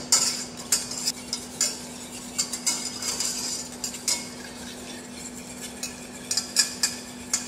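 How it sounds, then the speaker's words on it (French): A spoon or whisk repeatedly scrapes and clinks against a pan as a fruit juice soufflé mixture is stirred while heating toward a boil, in irregular close taps over a faint steady hum, with no talk. "Sans cesser de remuer, nous allons porter l'ensemble à ébullition."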